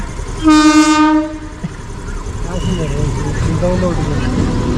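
A loud train horn blares briefly at Idupulapaya, then the heavy rumble of a passing train continues while people talk nearby.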